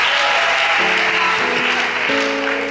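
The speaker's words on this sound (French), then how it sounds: "Aujourd'hui, c'est les femmes seulement qui applaudissent pour moi." Women in a church congregation applaud during a worship service, steady clapping heard over sustained organ or keyboard chords that shift pitch partway through.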